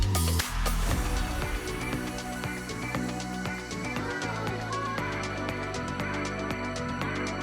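Simple guitar part in a second pre-chorus, short repeated notes sitting inside a full, dense track with steady beats, moderately loud and continuous, no speech.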